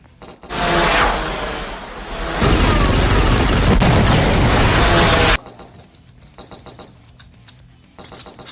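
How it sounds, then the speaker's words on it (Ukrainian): A newly acquired gun in the zombie-shooting video game Dead Zed fires in a loud, sustained burst of booming blasts that stops abruptly, leaving quieter game sounds. "давай протестимо нашу нову пушку"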